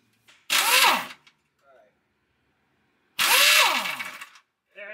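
An impact wrench removes bolts from the TH350 transmission of a 1978 Chevy van, two loud close bursts of whirring hammering about a second long, separated by a short quiet gap.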